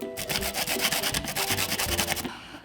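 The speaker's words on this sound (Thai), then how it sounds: "ต่อมาแล้วก็เลื่อยนะคะ ตามรอยที่เรา มาร์กเอาไว้นะคะ" A hand saw cuts notches along marked lines in a paper book spine for leather bookbinding, making steady, rapid back-and-forth rasping strokes up close before stopping abruptly.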